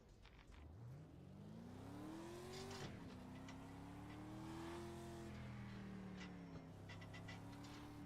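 Street stock race car engines on the oval at Oxford Plains Raceway in iRacing rise in a faint, steady drone that climbs and dips in pitch as the cars rev.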